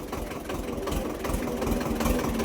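A tractor engine runs steadily at close range, a continuous low rumbling drone with a slight knocking pulse, while hauling a load of cucumbers along a muddy farm road between sugarcane fields.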